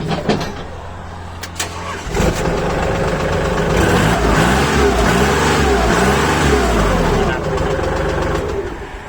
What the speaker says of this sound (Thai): ฟังเสียงเครื่องนะครับ